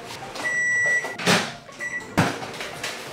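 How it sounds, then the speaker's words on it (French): A microwave oven heating chipolatas gives out a sustained electronic tone, broken by sharp clunks of its door or latch and a second shorter tone, close by and without speech. "Et du coup ça, 3 minutes au micro-ondes."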